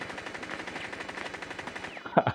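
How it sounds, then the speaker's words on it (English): Rapid machine gun fire rattles in a fast, even stream during a Rainbow Six Siege match. The bursts run close and continuous before a few louder, closer shots near the end. "机关枪。"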